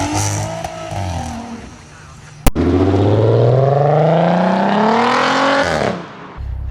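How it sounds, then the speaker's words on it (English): A VW Passat idles, then after a sharp click its exhaust roars as it accelerates away down the road, pitch climbing steadily before the engine note drops off. "We'll put in some clips showing you what the car sounds like driving up and down the road."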